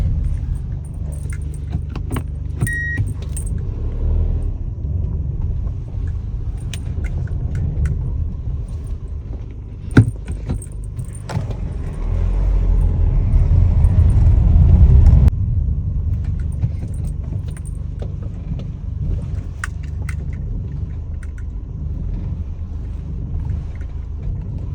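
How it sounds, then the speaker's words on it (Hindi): A car idles with a low engine rumble as it is turned and parked, the drone swelling briefly mid-way, with a sharp click and light jangling of keys scattered over it. "गाड़ी पार्क करता हूँ"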